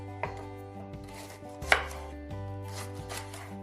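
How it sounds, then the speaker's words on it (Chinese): A knife chops ginger flower, galangal and lemongrass into small pieces on a board, with a handful of crisp, sharp cuts at uneven intervals over steady, low background tones. "再把我们的姜花切成1小块1小块， 南姜也切成1小块， 香茅呢同样的也是切成1小段1小段就可以啦"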